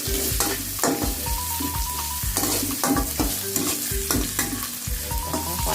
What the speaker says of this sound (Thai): ก็เอาหอมหัวใหญ่ลงผัดให้มันหอมนิดนึงก่อน